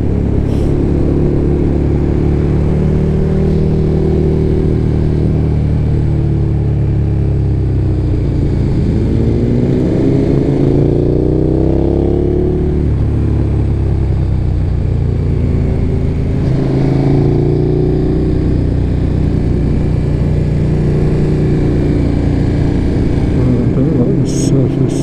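A motorcycle engine drones steadily through a ride in sport mode, loud and close with rising and falling revs as the bike accelerates, under wind rush and occasional talk from the rider.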